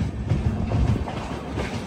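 The Devagiri Express, bound from Secunderabad to Mumbai CSMT, runs on after leaving Basar, giving a steady close rumble of railcars with faint rhythmic wheel clatter and no voices.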